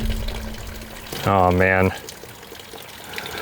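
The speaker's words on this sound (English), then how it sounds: "It is currently raining on our PC." Water rains down onto a running desktop PC, making a continuous hissing spray that a man's short exclamation briefly covers.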